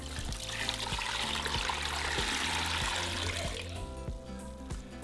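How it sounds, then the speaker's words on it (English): Twelve cups of water pour steadily into a metal pot with a hissing splash, then taper off near the end, over a faint rhythmic background hum. "So I'm going to add 12 cups of water in my pot."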